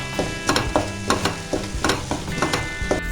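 Onions with chili powder being sautéed in a pan for restaurant-style chicken chilli, with steady sizzling and a regular rhythm of spoon scrapes and stirring strokes, close and fairly loud.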